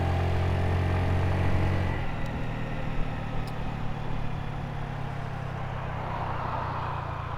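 A Honda Navi motorbike riding along a city street, its engine giving a steady mid-pitched hum with a low drone that shifts partway through, close and continuous with no talking.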